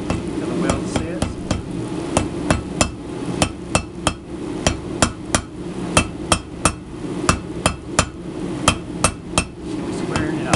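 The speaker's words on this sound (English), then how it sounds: "Light hammer strikes" Light hammer blows forge-welding a cable Damascus knife billet, about two dozen sharp metallic strikes in a steady, slightly uneven rhythm over a low rumble of the forge, close and clear.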